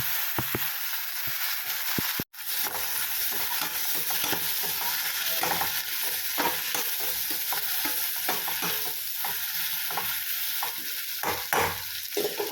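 Onions and tomatoes sauté in a pan, a close continuous sizzle with frequent scraping stirs and one brief drop to near silence early on, no talking.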